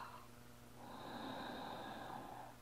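A single slow, soft inhale during four-part breathing in a yin yoga session, close and quiet, swelling gently and then easing off.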